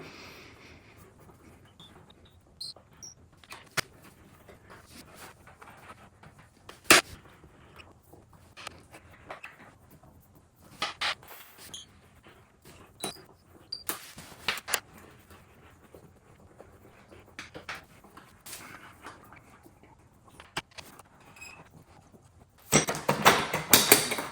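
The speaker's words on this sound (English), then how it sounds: "we're just going to take all these bolts out" Bolts being removed from the upholstery board of an aluminum studio Pilates reformer, sped up: scattered metallic clicks, ratcheting ticks and handling taps at close range, irregular and fairly quiet, with a louder rustling burst near the end.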